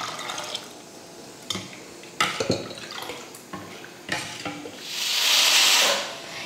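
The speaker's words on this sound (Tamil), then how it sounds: "சேர்த்ததுக்கப்புறம் நம்ம ரசத்துக்கு எந்த அளவுக்கு தண்ணி தேவையோ அந்த அளவுக்கு நம்ம ஊற்றிக்கலாம்." Clinks and clatter of a cooking pot, then a brief rushing pour of water into it for dal rasam, close and fairly loud.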